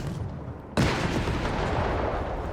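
Artillery saturation barrage in Company of Heroes 3: a sudden heavy blast erupts after a brief lull, followed by sustained rumbling shellfire and crackling impacts that stay loud to the end.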